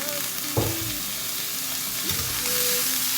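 Ground meat fries in a pan for a creamy spinach pasta, a loud, steady close sizzle throughout, with a couple of brief stirring scrapes and knocks.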